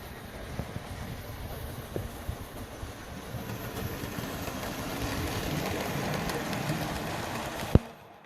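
A small train rattles steadily along its track close by, a soft continuous rolling clatter with light clicks and one sharp knock near the end.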